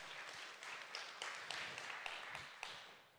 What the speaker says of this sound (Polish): Jeszcze raz ogromne brawa.